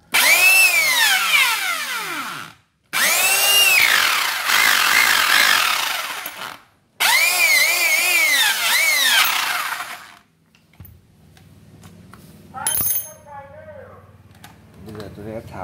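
A rotary hammer drill with a fault that stops the bit turning is run on test in three loud bursts of high whining motor noise that winds up and down, each separated by short pauses, followed by quieter clatter and handling sounds.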